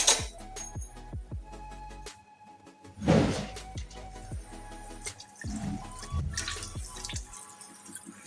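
Water is poured into a simmering hilsa fish curry with eggplant and mustard, giving splashy, trickling bursts and bubbling up close, with quieter gaps between pours.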